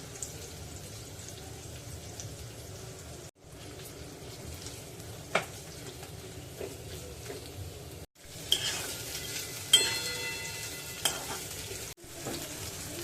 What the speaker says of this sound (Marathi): कांदा आपल्याला पारदर्शक होईल इतका परतायचा आहे